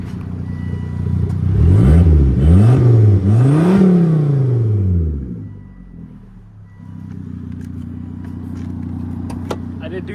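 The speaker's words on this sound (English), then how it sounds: "Exhaust sounds great." A Volvo V70R turbo wagon's exhaust rises and falls through several strong, close revs before settling back to a steady, throaty idle.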